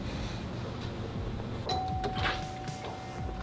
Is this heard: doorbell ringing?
yes